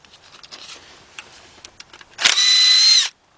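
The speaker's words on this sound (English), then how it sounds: "I got my cordless impact here with my 10mm shallow socket 3/8 drive" A cordless impact wrench with a 10mm shallow socket on a 3/8 drive, removing water pump bolts, gives one loud, close hammering burst of under a second, after quieter handling and clinking.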